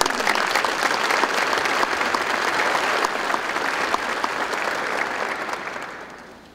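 Large crowd applauding at a College of Charleston winter commencement for bachelor's and master's graduates, a dense, steady roar of clapping that holds loud and even for several seconds before starting to fade.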